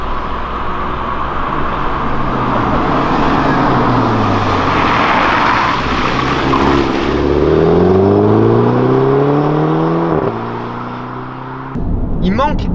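A Mini Clubman with 231 hp pulls out of hairpin bends, its engine note rising through the revs in repeated climbing sweeps, loud and close, before dropping off near the end, with a voice talking over it.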